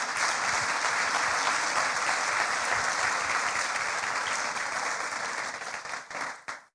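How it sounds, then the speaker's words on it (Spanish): A church congregation bursts into strong applause, a thick sustained roar of clapping that holds steady for several seconds, then thins and tapers into a few scattered claps. "Dale un fuerte aplauso a Dios."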